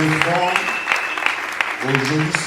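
A church congregation claps in a steady rhythm under continuous voices, the claps sharp and evenly spaced throughout.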